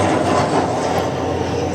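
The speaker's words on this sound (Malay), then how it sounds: "hari-hari tengok kapal terbang lalu dekat rumah ni" An airplane passes overhead near a house as a steady broadband engine roar, fairly loud and continuous throughout, with no talk.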